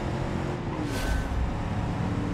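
Car engine accelerating in the driving simulation game BeamNG.Drive during a racing mod, a loud, steady engine drone with a brief rising swell, heard on its own.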